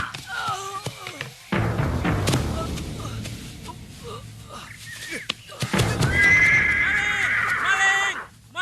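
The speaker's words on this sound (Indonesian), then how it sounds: "Dia mencuri kuda saya!" A horse neighs loudly and close in an outdoor drama scene, with long, shrill whinnies rising over a busy background, and a second whinny near the end.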